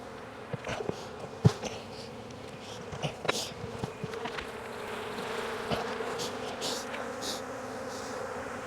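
A steady buzzing drone of many honeybees from a swarm being hived, close and continuous, with a few sharper clicks and bumps scattered through.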